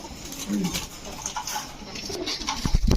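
A Royal Teddy female pigeon coos among other pigeons, with low, rounded calls rising from steady background chatter and bustle; voices murmur faintly nearby.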